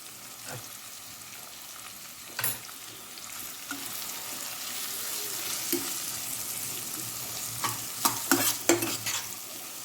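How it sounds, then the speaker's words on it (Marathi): Masala for vegetable pulao frying and being stirred in a pan, a steady sizzle with scattered scraping spoon strokes, louder clusters of stirring near the end, no voices. "आपला सगळा मसाला मस्त फ्राय झालेला आहे"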